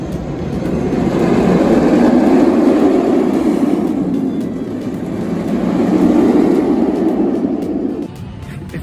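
A roller coaster run on the Vampire at La Ronde gives a loud, sustained rumbling roar of the train on the track that swells and eases, with faint clicks and a drop-off near the end.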